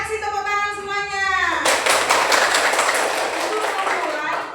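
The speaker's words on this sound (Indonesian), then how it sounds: "Kasih tepuk tangan semuanya." A classroom full of students bursts into steady, loud applause after a teacher's spoken voice, the clapping continuing densely to the end.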